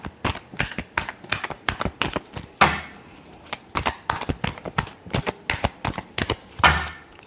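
Tarot cards are shuffled by hand, producing rapid sharp riffling slaps and taps in an uneven rhythm, loud and close, with a couple of heavier bursts of shuffling along the way.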